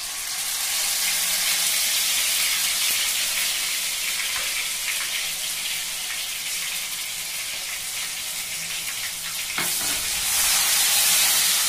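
Onion paste frying in hot oil with cinnamon stick for palak paneer: a loud, continuous close sizzle with bubbling and stirring scrapes throughout.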